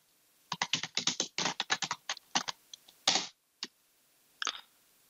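Rapid bursts of keystrokes on a computer keyboard, close and clear, with quick runs of clicks, a heavier thump like a spacebar or enter key, and short pauses between words.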